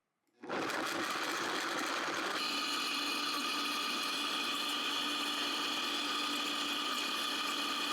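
A high-powered blender kicks on abruptly and runs at a steady, loud whine. The motor pitch shifts slightly early, then holds constant.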